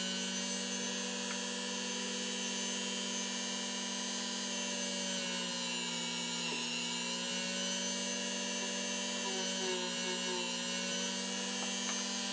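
A Dremel rotary tool spins a buffing pad loaded with wax, giving a steady high-pitched whine that holds constant throughout with a slight dip midway and no talking.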